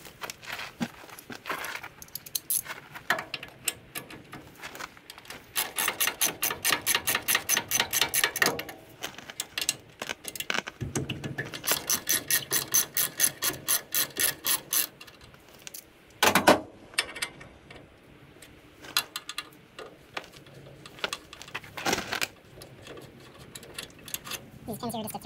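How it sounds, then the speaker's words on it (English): Removing Allen head caliper bolt pins from a 1985 GMC C2500 brake job: quick ratcheting clicks come in rhythmic runs, broken by metallic clinks and tool handling, close up, with someone talking at times. "So this is an Allen head bolt right here, your caliper bolt, so I'm just gonna take those pins off."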